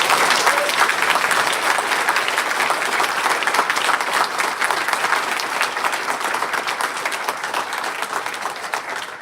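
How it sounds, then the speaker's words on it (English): Sustained applause from an audience at a ceremony honoring retiring transgender military service members, dense and steady throughout, fading slightly toward the end. "Please give our retirees a well-deserved round of applause."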